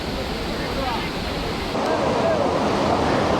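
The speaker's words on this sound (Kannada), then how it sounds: "ಜಲಪಾತ ಭರಚುಕ್ಕಿ" Bharachukki waterfall at Shivanasamudra roaring in a steady, dense broadband wash of falling water, loud and continuous, with wind buffeting the microphone and a faint murmur of a crowd beneath.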